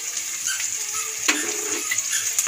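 Brinjal and fenugreek leaves stirred in a hot pan, with a steady close sizzle and scraping utensil strokes, one louder scrape in the middle, no voices.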